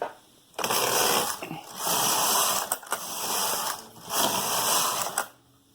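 Knitting machine carriage sliding back and forth across the needle bed, four loud rasping passes of a second or so each, separated by short pauses, close up with no talk.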